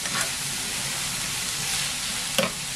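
Chopped onion, green chili and a medium carrot sizzle steadily in a hot pan, a close, continuous hiss of frying with a couple of faint stirring clinks, no talking.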